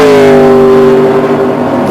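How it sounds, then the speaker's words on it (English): Speedcar Series race cars at the Dubai Autodrome, a loud, sustained engine roar with strong harmonic whine slowly dropping in pitch as the cars pass close by. "Fantastic sound as these cars roar around the Dubai Autodrome."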